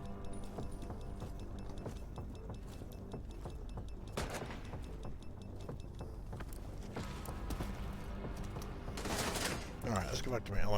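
Gunfire in The Division 2 video game rattles in busy overlapping bursts of automatic fire and mechanical clatter, fairly distant and layered, with a sharper burst swelling near the end.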